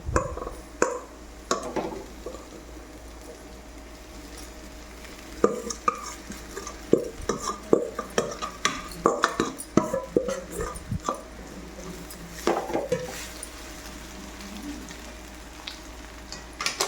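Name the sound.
stirring soaked poha (flattened rice) in a pan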